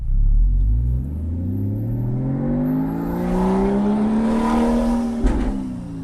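Car engine fitted with high flow 200 cell headers, accelerating while driving, a deep rumbling exhaust whose pitch rises steadily across the run, close and continuous with a short thump near the end.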